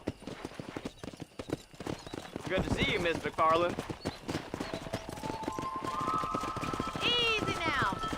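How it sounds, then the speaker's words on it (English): Horse hooves clip-clop at a steady trot in the Red Dead Redemption video game, with a brief whinny partway through, while characters talk over the rhythmic footfalls. "Control that horse, will ya?"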